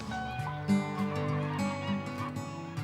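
Geese, herons, egrets and other waterbirds honk and call in an overlapping chorus in a marsh, a steady noisy flock sounding close, with repeated nasal cries throughout.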